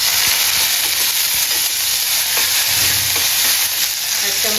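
Garlic cloves, mustard seeds, cumin and dried red chillies fry in hot oil, a loud steady sizzle and crackle up close with faint stirring throughout.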